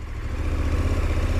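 KTM 1290 Adventure S V-twin motorcycle engine running steadily, a close, continuous low throb with faint clatter and no talk over it.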